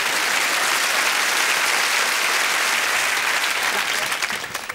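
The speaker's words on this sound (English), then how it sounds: "we want to give a nice big round of applause to Dame Hilda" A studio audience at a televised hypnosis show claps in a dense, sustained round of applause, loud and even from start to finish, tapering only slightly at the end.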